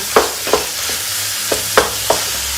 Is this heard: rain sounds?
no